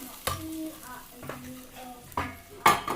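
Boiled lentils and cucumber pieces stirred in a pot with a spoon, a few distinct scraping strokes spaced apart with soft clinks, faint background sizzle.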